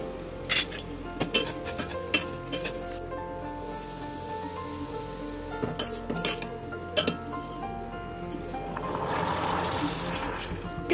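Orange dye stirred in a steel bowl, with a spoon scraping and clinking against the metal in irregular bursts, some sharp knocks early on, close and fairly quiet with a faint background hum.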